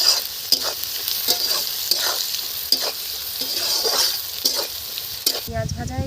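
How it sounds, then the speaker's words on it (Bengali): Onions sizzle in oil tempered with cumin and a light sprinkle of salt, under a continuous hiss with regular stirring scrapes. The sound is close and fairly loud, then changes abruptly near the end. "জিরে ফোড়ন দিয়ে দেব, পেঁয়াজ দিয়ে দেব।"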